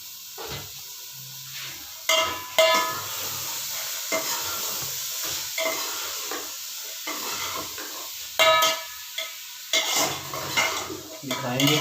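Peas get stirred into a pan of mixed vegetables, with metal utensil scrapes and clanks against the pan over a light sizzle, in irregular bursts.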